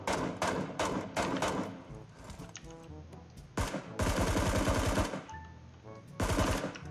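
Rapid gunfire in the mobile battle game PUBG Mobile, repeated automatic bursts and single shots in loud clusters separated by brief quieter gaps.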